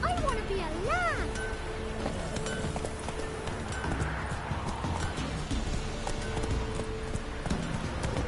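A horse galloping in The Witcher 3, rhythmic clip-clop hoofbeats continuing steadily, opening with a short whinny and carrying on under ambient game sound and a brief voice.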